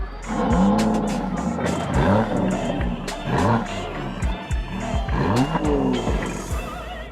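A V12 bi-turbo car engine revs hard in repeated bursts, with rising and falling pitch sweeps close by, and voices faintly underneath.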